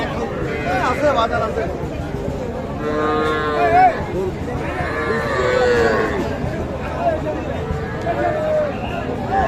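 Several young bull calves moo repeatedly, near and overlapping, amid a busy crowd at Kaharol cattle market, with people chattering throughout.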